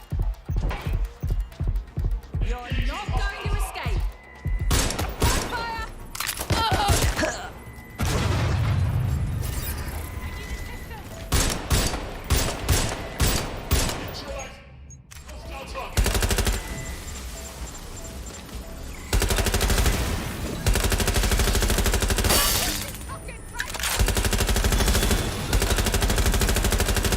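Rapid automatic gunfire and single shots from a Watch Dogs: Legion firefight crackle in dense bursts with booming impacts, nearly continuous and loud throughout the half-minute battle.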